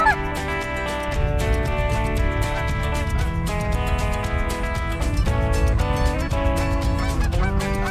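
Canada geese honk during a goose hunt in Idaho, a loud continuous series of overlapping honks and calls in close succession with no talk over them.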